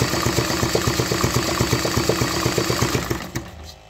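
A high-performance 3D-printed engine runs after a crank start, firing in a fast, even, loud mechanical beat close by before abruptly cutting out and falling quiet.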